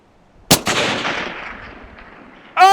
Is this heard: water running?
no